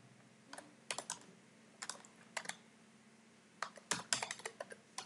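Fingers type on a computer keyboard in short bursts of quick, close clicks separated by pauses, faint against a low steady hum, with no voices.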